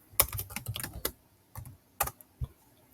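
Keys tapped on a computer keyboard, a quick cluster of clicks followed by a few spaced, isolated keystrokes, close and fairly quiet with no voices.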